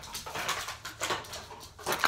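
A pet dog whimpers in several short, faint, high whines, spaced apart and heard close by in a quiet room.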